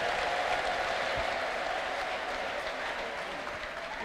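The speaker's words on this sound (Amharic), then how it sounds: "ለጌታ ከፍ ያለ ልልታና ጭብጨባ" A church congregation breaks into applause with ululation, a wash of clapping from a crowd that runs steadily and fairly loud, with some voices mixed in.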